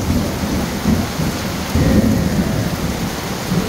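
Heavy rain pours steadily and loudly, with no voices, a dense continuous wash of drops.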